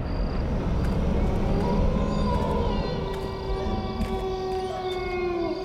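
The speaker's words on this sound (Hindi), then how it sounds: "ये भेड़ियों का भौंकना" Wolves howling at night in a TV drama, long rising and sliding wails layered over a loud, dense rumble of wind and thunder-like noise, with no voices.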